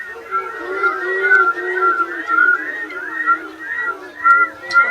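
A person whistles a repeated series of short, even notes imitating a saw-whet owl's call, at close range with no other sounds.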